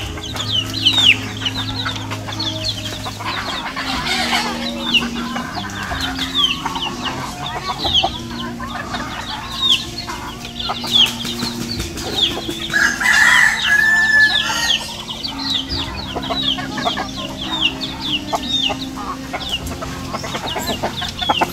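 Native chickens, roosters and hens, in new coops on a farm, clucking steadily with crowing rising above a busy, close chorus of fowl.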